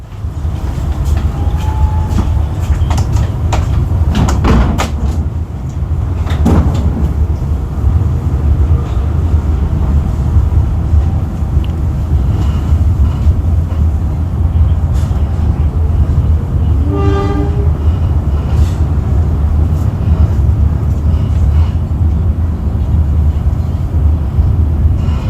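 KA Ranggajati business-class train departing Kebumen station, a loud steady low rumble of the carriage rolling, with a few clanks and a brief distant horn toot partway through.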